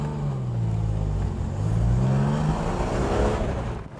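A Ford Capri Brooklands drives hard on a race track, its engine note loud and close with strong low harmonics that rise and fall as it accelerates and shifts, steady throughout with no voices.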